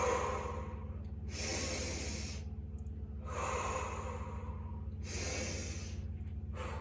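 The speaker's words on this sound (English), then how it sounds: "big inhales through your nose, exhales through your mouth" Deep rest-period breathing during a core strength workout, with three or four long, loud breaths drawn in through the nose and pushed out through the mouth, each a steady airy rush over a constant low room hum, with no talking.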